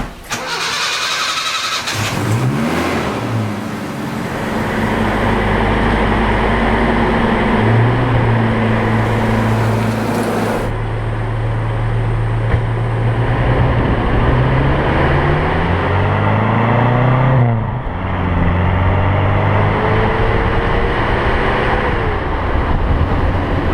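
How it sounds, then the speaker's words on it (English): A 1972 Ford Escort MK1 engine runs loud and close throughout, its revs rising and falling in steady pulls and gear changes as the car moves off on a test drive, with no talk over it. "I think I'll go for a little test drive in a minute and I'll show you how it drives."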